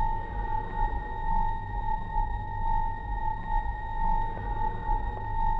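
In the Curse: The Eye of Isis video game, a mummy monster gives off a low rumbling drone that rises and falls beneath a steady, ringing tonal hum, with no talking over it.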